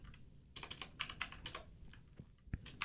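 Soft computer keyboard typing while Java code for a Selenium page object is entered: quiet, close key clicks in short bursts with brief pauses between them.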